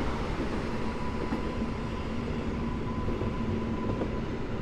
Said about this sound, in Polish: Pociąg z Łodzi do Warszawy